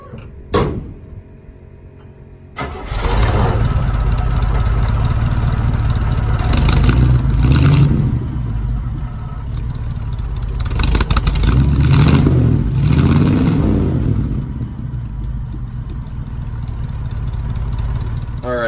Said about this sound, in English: Just a regular V8. Sounds good. Dual straight piped exhaust,